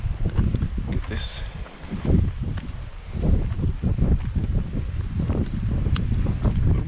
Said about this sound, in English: A little breezy today.